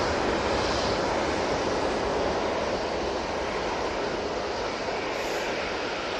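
A Juneyao Airlines airliner arriving at Manchester Airport in colourful petals livery, a dense, steady engine roar, loud and unbroken for several seconds, with no talk.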